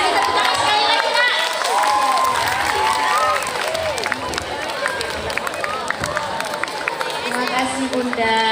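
At an Indonesian primary school storytelling competition, a crowd of children and adults claps and cheers in a dense, continuous roar, with shouting voices layered over the applause from start to finish.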